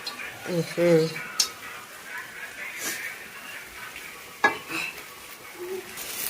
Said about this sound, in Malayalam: ബിരിയാണി പാൻ നല്ല ചൂടായിട്ടുണ്ട്. അപ്പൊ അതിലോട്ട് നമുക്ക് 2 ടീസ്പൂൺ നെയ്യ് ഒഴിച്ചു കൊടുക്കാം.